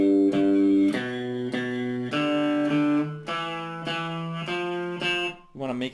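Guitar playing a piano-style boogie blues line in straight, even eighth notes without swing, with plucked bass notes and chords in a steady rhythm, close and clear, with no talking.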